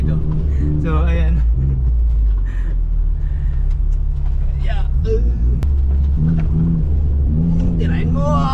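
A 4x4 off-road build's engine rumbles and revs hard in a low, steady roar, with people talking loudly over the motor noise.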